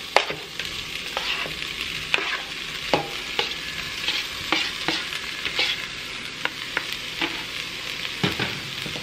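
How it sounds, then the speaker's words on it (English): Seasoned meat goes into a pot of chili and is stirred, with soft sizzling and repeated scraping strokes of a spoon against the pot at a steady pace, heard close with no talking. "So I'm just going to go ahead and add in our seasoned meat."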